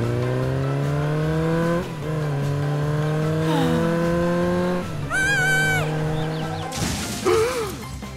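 A motorcycle engine drones loudly with a strong tonal hum that shifts in pitch as it revs, then breaks into a higher whining burst and a rough final surge.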